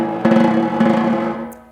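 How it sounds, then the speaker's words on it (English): Four overlapping soft buzz strokes on a snare drum, played slowly with both stick tips pressing into the head, each buzz swelling and decaying in a smooth roll, close and clear with no talking. "Here's 4 overlapping soft buzzes"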